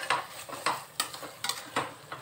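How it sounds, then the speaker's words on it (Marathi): Vegetables for a veg dum biryani stirred in oil inside a pressure cooker: rhythmic scraping strokes, about five in quick succession, over a light sizzle, close up with no voices. "आता मी यामध्ये एकदा भाजी मिक्स करून घेते"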